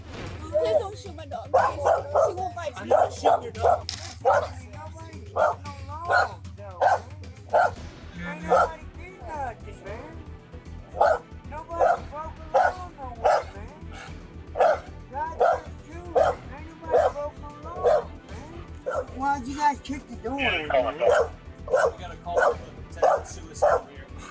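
A dog barks and whimpers repeatedly during a police encounter, a steady series of sharp, close barks with high yips and whines between them, while people talk under and between the barks.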